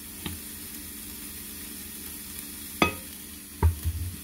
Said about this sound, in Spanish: ya voy a revolverle aquí el chorizo